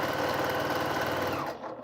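A sewing machine stitches quilt fabric for a Quilt of Valor with a 1/4 inch seam, a fast, even mechanical whir and rapid clatter that runs loud and close, then slows and stops near the end.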